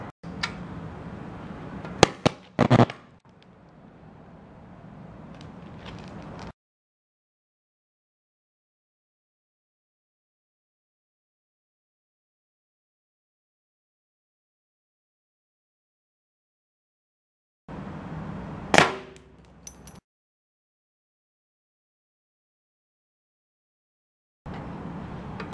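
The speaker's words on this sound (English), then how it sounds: "I'm gonna blow up a few of those little lithium coin cell memory batteries." Small lithium coin cell memory batteries bursting outdoors: a couple of sharp cracking pops near the start with crackling fizz, then silence, and later another loud pop with sizzling before fading.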